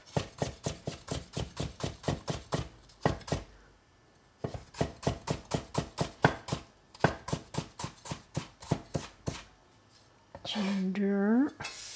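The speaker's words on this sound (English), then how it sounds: "So cut some ginger." Knife chopping ginger on a board, brisk rhythmic runs of close, crisp thuds broken by short pauses, with a brief voice near the end.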